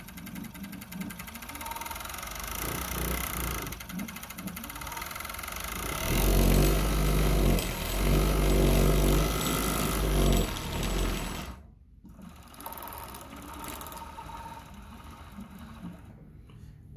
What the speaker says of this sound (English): A great sewing machine